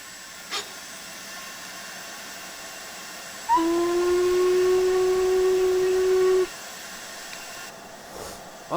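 Steam whistle of an LMS 5XP Jubilee 4-6-0 locomotive in Train Simulator Classic, one steady sustained blast of about three seconds over a quiet background hiss, cutting off abruptly.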